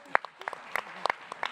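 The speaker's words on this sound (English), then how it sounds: "I think there's like a good hand of applause for" Scattered hand claps from an audience at an Explorers Festival science talk, a handful of sharp, separate claps spread across a brief moment rather than a full ovation.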